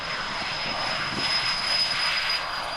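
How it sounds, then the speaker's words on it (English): A Pilatus PC-24 business jet accelerates on its takeoff roll, a loud steady engine roar with a high whine running throughout, heard close from inside the aircraft. "Auto throttles are used for takeoff, and soon we're speeding toward our 95-knot rotation speed."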